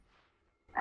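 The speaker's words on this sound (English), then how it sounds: "I'm of course talking about the almighty invocation of the frog." A single loud frog croak from a Dota 2 voice line bursts in abruptly after near silence, short and close.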